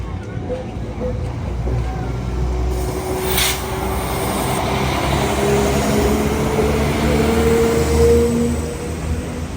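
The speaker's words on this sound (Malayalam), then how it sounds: "എന്തായാലും ആകെ 2 കമ്പാർട്ട്മെൻറ്റുള്ളൊരു കുട്ടി ട്രെയിൻ." Small two-carriage East Midlands Railway train bound for Leeds rumbling past close by, a steady low mechanical roar with rising engine tones and a brief squeal, continuous throughout.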